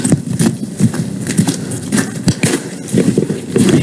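A horse at a ranch moves during a training session, its hooves giving irregular thuds and clops nearby on a noisy background, with no talking.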